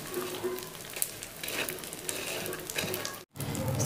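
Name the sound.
panjiri ingredients frying and stirred in pan on low heat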